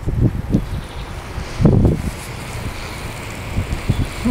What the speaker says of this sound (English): Sure is windy out today.